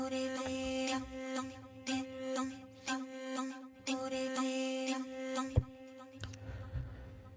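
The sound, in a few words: three layered vocal pads in Zero G Kepler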